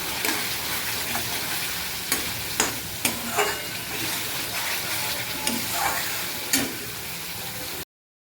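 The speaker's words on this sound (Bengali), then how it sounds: "কাঁচা লঙ্কা দিয়ে দিলাম 4টে, দিয়ে ভালো করে এখন কষিয়ে নেব।" Tomato and green chilli masala stir-fried in a pan for masala chicken, a steady close sizzle broken by a few sharp scrapes and clinks of a spatula against the pan.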